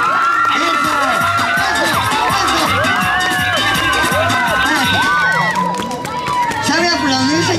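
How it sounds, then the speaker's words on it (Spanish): A large crowd at a clown show in Chapultepec, Mexico City, cheers and shouts loudly and continuously, a dense roar of many voices with whoops rising above it throughout. "Oigan a la gente cómo aplaude y cómo grita."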